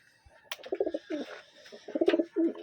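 A pigeon coos close by in soft, throaty rolling phrases, two bursts separated by a short pause, with faint rustling; a Taiwan racing pigeon cock.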